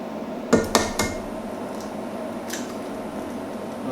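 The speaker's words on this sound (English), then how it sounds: "I'm gonna whack in an egg, an organic egg." An organic egg cracked against the rim of a pot of instant noodles: two or three quick, sharp taps close up, then a soft plop, over a steady kitchen hum.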